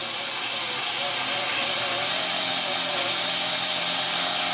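A Kinkajou DC-motor wet sander runs steadily, a constant high-pitched whir with broadband hiss that holds level and fairly loud throughout, with no pauses or voices.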